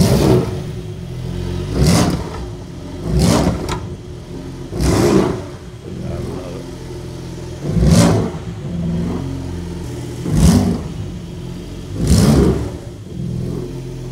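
A Porsche 992 Turbo S with a Ferrita Powerpack exhaust, 750 hp, blipped repeatedly: seven loud, close revs rising and falling every couple of seconds over a rumbling idle.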